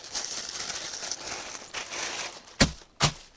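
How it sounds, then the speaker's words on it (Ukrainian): Continuous plastic crinkling and rustling, close and fairly loud, ending with two sharp tearing rips. "Дуже акуратно потрібно відкрити ось цей пакетик"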